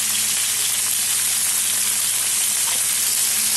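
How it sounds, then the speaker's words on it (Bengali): Potol, potato and brinjal frying in a pan with salt, ready for a fish-head chorchori, give off a steady, dense sizzle that stays close and even throughout, with faint stirring underneath. "এগুলো সবজিগুলোকে এখন ভেজে নেব"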